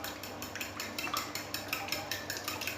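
A utensil scrapes and taps steadily against a bowl while leek tart filling is stirred and thinned, a quiet, close, regular rhythm of stirring strokes with no talk.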